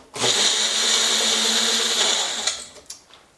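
A blender whirs loudly and continuously as it mixes a turmeric and black pepper drink, then winds down and stops after a few seconds, with no talking.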